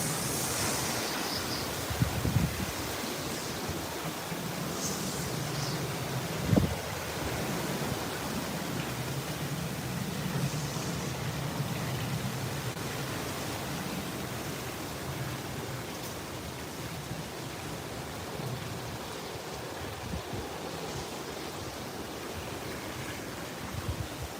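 Strong wind blows outdoors as a steady broadband roar with gusty swells, plus a couple of brief thumps near the start.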